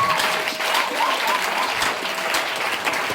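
Church congregation clapping in acclamation, a loud, close, continuous burst of many hands with faint voices mixed in.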